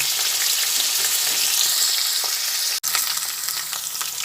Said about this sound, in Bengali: প্রথমে গাজরটা তেলের মধ্যে দিয়ে দিচ্ছি দিয়ে গাজরটা প্রথমে ভেজে নিচ্ছি